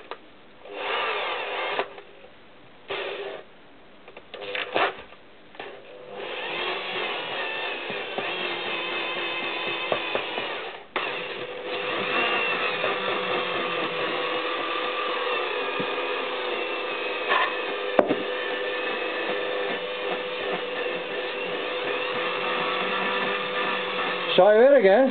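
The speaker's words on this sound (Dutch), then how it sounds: "Wat ik doe is af en toe met mijn hand drukken en de boor heen en weer laten gaan." A hand drill turns a valve back and forth while it is lapped into a 650 cylinder head. The motor whirs steadily after a few stop-start bursts, close and moderately loud, with a voice heard over it.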